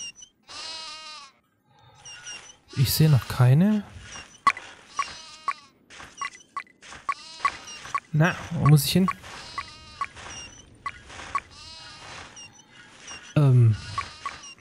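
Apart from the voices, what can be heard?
goat bleating in video game Die Siedler 4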